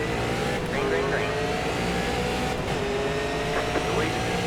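Race cars in the iRacing sim at Five Flags Speedway roar as the field takes the green flag, a dense sustained engine drone with rising revving whines, steady and loud throughout with faint talk mixed in.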